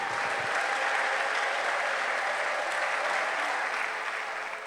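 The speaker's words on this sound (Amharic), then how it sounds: "አጨብጭቡ ለጌታ ክብር።" A church congregation applauding, dense sustained clapping from many hands, steady and fairly loud throughout with no speech over it.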